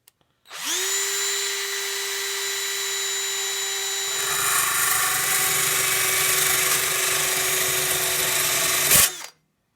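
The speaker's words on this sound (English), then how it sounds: "I don't even know if I can get this drill in here." A power drill whines steadily for about nine seconds while cutting inside the cab of a 1947 GMC truck, its pitch shifting slightly midway as it bites into the material, then stopping abruptly with a brief clunk.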